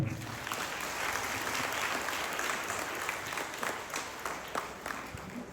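An audience at a religious gathering in Dandeli claps steadily throughout, a dense, continuous wash of many hands with scattered sharper claps standing out close by.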